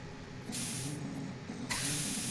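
Close, hissing bursts of coolant spray in Metal Gear Solid 2, a short spurt followed by a longer continuous spray, each starting sharply, over a low game background hum.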